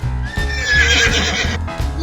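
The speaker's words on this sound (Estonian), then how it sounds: "Hobune." Toy horse neighing in a children's game: a loud whinny with a bright, wavering, descending pitch lasting over a second, framed by a low electronic hum before and after.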